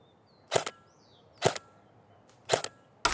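A Tokyo Marui HK416D Devgru airsoft rifle fires 0.28 g BBs at an outdoor target, giving four sharp, evenly spaced single shots, each a crisp snapping crack about a second apart with quiet between them.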